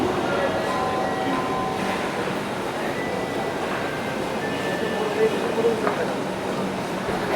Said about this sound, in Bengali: এখন আমি উঠবো এই ট্রেনের মধ্যে।